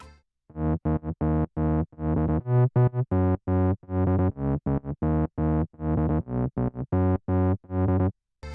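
A gritty, harmonically rich synth bass plays a choppy rhythmic pattern of short and sustained notes, loud and upfront with no other sounds.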